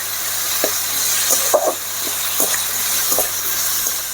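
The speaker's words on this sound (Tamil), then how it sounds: "இப்போ தக்காளியும் கொட்டிக்கலாம் எல்லாம் நல்லா வதக்கணும்" Onions and tomatoes sautéing in ghee for mutton ghee roast, a loud continuous sizzle and hiss with a few soft stirring knocks from the pan, no talking.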